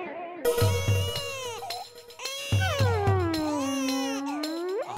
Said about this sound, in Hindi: आवाज तो आ रही है रोने के बच्चे की।